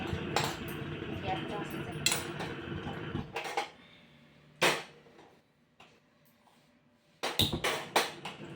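Dry fruits roasting in a pan for laddoos, stirred with a metal spoon: close clinks and scrapes against the pan over a low sizzle, busy at first, then sparse, then a quick cluster of taps.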